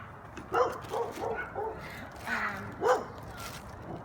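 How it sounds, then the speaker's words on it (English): Several dogs outdoors barking and yipping in repeated bursts at mid-distance over steady background ambience, with no talking. "Sorry you guys for all the barking."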